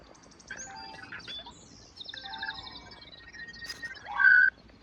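Birds chirp and tweet in a quick series of short, bright calls, some near and clear, others faint, ending in one louder call.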